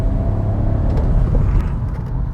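A Toyota HyRyder hybrid's 1.5 liter 3-cylinder engine runs with a low, steady rumble, heard from close by and without talk.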